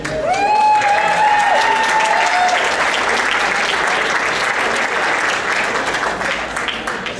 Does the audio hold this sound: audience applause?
yes